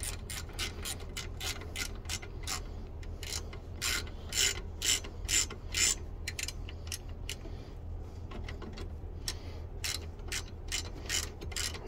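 A ratchet socket wrench clicks in rapid bursts on a Hino N04C engine in a Hino 300 during a head gasket job, the close, crisp ratcheting repeating in quick strokes throughout, with no speech.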